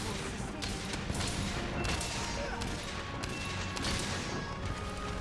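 A heavy bowgun fires in Monster Hunter Rise as a dense, continuous barrage of loud shots and impacts over in-game noise, with a voice talking over the gunfire.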